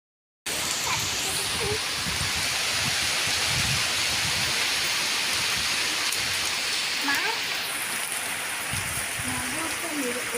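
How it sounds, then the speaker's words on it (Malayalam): Steady broadband rush of stormy wind and rain, continuous and fairly loud throughout, with a voice faintly talking underneath. "കണ്ട ആ വർഷത്തേക്ക് നല്ല കാറ്റും മഴയും"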